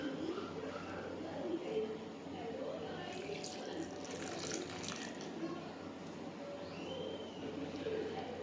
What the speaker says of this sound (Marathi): तर इकडे आपण पाणी घालूयात आणि पाणी घालत असताना अगदी थोडंसं घाला